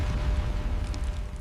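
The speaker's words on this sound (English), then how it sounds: "The first bomb hits a command quinquereme dead center." A bomb exploding on an ancient Roman quinquereme warship, a loud, close, deep rumbling boom that fills the whole short moment and rolls on without pause.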